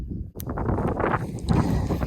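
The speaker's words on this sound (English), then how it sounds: "so it's a little windy" Gusty wind buffets the microphone in rough, rumbling bursts, with rustling noise rising and falling over a couple of seconds, outdoors in a food forest with almond trees in Greece in summer.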